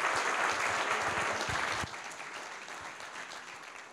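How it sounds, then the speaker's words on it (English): Audience clapping at a breakfast event on the state of energy in Pinal County, a dense steady round of applause filling the room, slightly softer toward the end. "Yeah, let's give them a round of applause."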